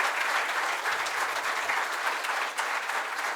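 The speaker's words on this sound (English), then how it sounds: "Let's give her a standing ovation along with all the speakers." An audience at a book event gives a standing ovation, sustained dense applause that holds steady from start to finish.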